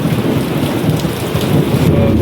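Heavy rain pours and pounds on surfaces in a dense steady roar, with a low rumble of thunder underneath, soaking a battery-powered electric bike outdoors.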